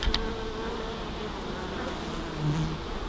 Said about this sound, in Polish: Zobaczcie moje pszczoły.